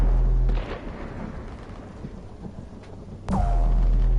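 Airstrike explosions in a sci-fi shooter game: a heavy low boom rolls off at the start, a rumbling ambient stretch follows, and a second loud blast hits sharply near the end.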